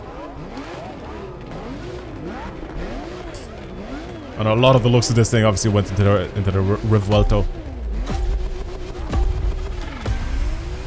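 In The Crew Motorfest, a Lamborghini Sian Roadster with an Aventador-derived V12 revs in rising and falling sweeps, bursts into a loud stretch of hard revving, then settles back into lighter blips while someone talks throughout.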